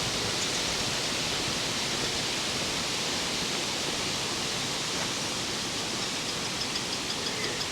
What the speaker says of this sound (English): Quite breezy.